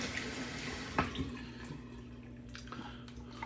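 Tap water runs and splashes as a face is wetted before shaving, with a few separate splashes over a steady running flow, fairly quiet and close.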